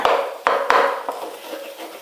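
A utensil strikes a metal pan while a cooked egg omelette is cut into pieces for chicken fried rice, giving several sharp knocks followed by lighter scraping, close and with no talking.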